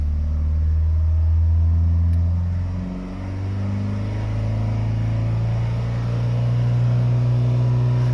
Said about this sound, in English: So I'll give it a drive, get it up to temperature and try it again